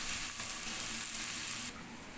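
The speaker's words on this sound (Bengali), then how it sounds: "তেলের সাথে পেঁয়াজটা নেড়ে চেড়ে" Onion is stirred and fried in oil, giving a faint, even hiss of sizzling with little variation and no clear stirring knocks.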